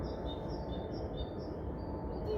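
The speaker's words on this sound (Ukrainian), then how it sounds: "як ці пташки співають." Faint birdsong drifts in as a string of thin, high whistles, repeated every half second or so above a steady, loud background hiss.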